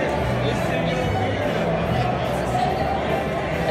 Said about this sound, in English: Always a crowd